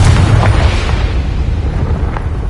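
Hogwarts Legacy's Confringo spell bursts in a loud, low explosion already underway, its deep rumble and crackle slowly tapering off.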